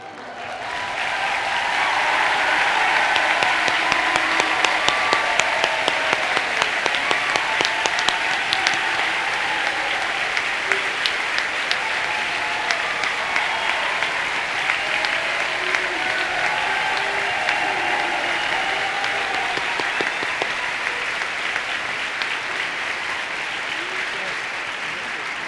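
Sustained applause from a large audience at a high school commencement ceremony in Ann Arbor, honoring a retiring teacher; steady dense clapping fills the hall for about 25 seconds, swelling early then holding even, with no voices standing out.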